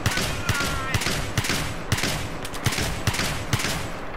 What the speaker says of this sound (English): The frag rounds are fucking fun. You have to shoot really fast, though.